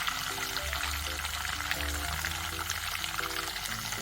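Curry leaves frying on a low flame for carrot achar, a continuous close sizzle and crackle over low steady tones, with occasional soft stirring, no voices.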